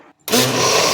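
After a brief near-silence, a mixer grinder abruptly starts and whirs loudly and steadily, close by, blending dragon fruit and milk into a milkshake.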